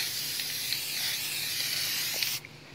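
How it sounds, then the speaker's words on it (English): Spray glue hisses from an aerosol can in one continuous, close, steady burst for over two seconds, then stops abruptly, with no talking. "And if you're using spray glue, which I am, it stings, so do it outside."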